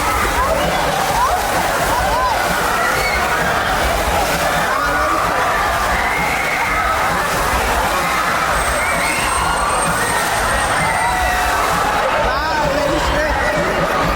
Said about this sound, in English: They can also do this on their sides to displace a whole lot of water.